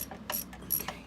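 Ratchet wrench clicking in quick bursts while tightening rear brake bolts on a Mercedes A207 E-Class, close, crisp metallic clicks in short runs with brief pauses, no speech.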